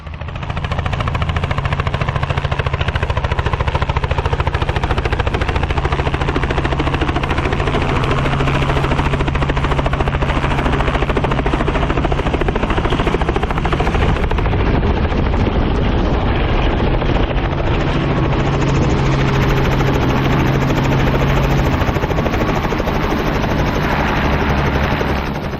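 A helicopter flying close, a loud, continuous rotor thrum and engine whine with heavy wind buffeting throughout, holding steady for the whole stretch.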